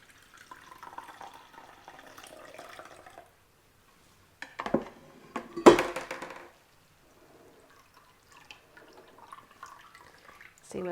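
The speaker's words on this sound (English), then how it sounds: "Let's pour the rest of that out." Homemade vegetable stock poured out of a pot, faint trickling and splashing broken by a louder gush and a clatter of the pot in the middle, then quieter dribbles, with no speech.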